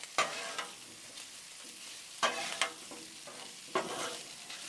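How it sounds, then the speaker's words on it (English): Sausage browns in a hot pan, a steady soft sizzle broken by three clusters of sharp utensil scrapes as it is spread and stirred, close and quiet with no voices. "we just want to get that sausage good browned up a little bit"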